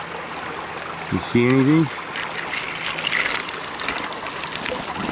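Water runs through a cleared channel downstream at natural springs, a steady close rushing trickle that continues throughout while a person speaks briefly over it.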